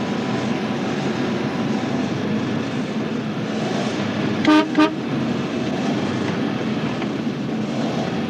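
A Bates car runs on methane gas with a steady, loud engine rumble throughout, broken midway by two short horn-like toots.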